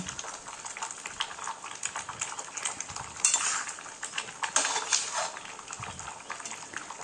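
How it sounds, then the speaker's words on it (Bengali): A pot of mango pieces for pickle bubbles and simmers steadily, with soft crackling and occasional clinks of a spoon against the rim, no voices. "টকবক টকবক করে ফুটছে দেখছি আমটা সেদ্ধ হয়েছে নাকি দেখছি"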